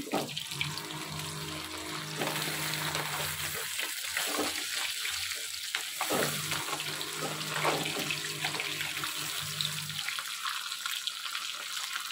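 Fish frying in oil in a pan, a steady loud sizzle and crackle close up that carries on for the whole stretch, with scattered pops and no voices.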